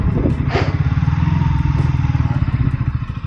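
A KTM Duke 200 motorcycle runs at a steady pace on a ride near the Chilean–Argentine border crossing, its engine thrumming in a fast, pulsing rhythm with loud wind rush and some rattling clatter.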